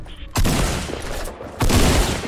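Tac shotgun blasts in an online shooter game, two loud booming shots about a second apart, each with a rumbling tail.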